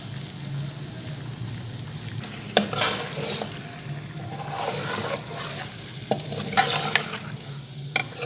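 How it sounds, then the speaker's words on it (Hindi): Beef karahi fries in oil with crushed black pepper, a continuous loud sizzle broken by several sharp metallic clanks and scrapes of stirring, street-food style, with no talking. "मज़ीद 2 मिनट इसकी भुनाई करें।"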